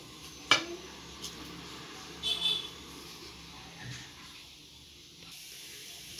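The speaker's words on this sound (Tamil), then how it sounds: "சோம்பு பொரிஞ்சிருச்சு." Fennel seeds spluttering in about three tablespoons of hot oil in a kadai while making raw banana chops: a faint, quiet hiss broken by a sharp pop early on and a short crackling burst midway.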